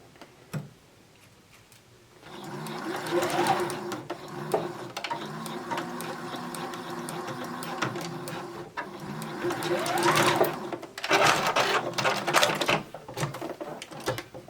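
A sewing machine stitching elastic onto a surgical cap runs in close, loud bursts of rapid mechanical ticking, pausing briefly between runs, with a few sharp clicks.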